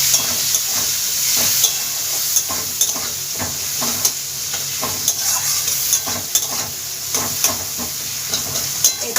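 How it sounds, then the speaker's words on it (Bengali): Chopped onion fries in hot oil with a continuous sizzle, broken by regular scraping strokes of a stirring spoon, close and with no talking. "পেঁয়াজটা ভাজা হোক"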